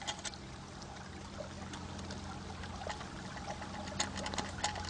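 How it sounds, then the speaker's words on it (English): A small trickle of water dribbles onto salt crystals in a bushcraft salt chamber, faint uneven splashes and drips over a low background hum, growing a little busier toward the end. "Now what we need to do is very carefully just moisten the salt crystals"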